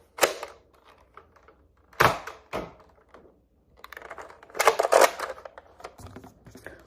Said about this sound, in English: I'm going to try to fire both of these at one time this time.